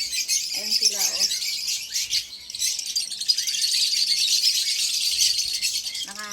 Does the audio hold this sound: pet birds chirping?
yes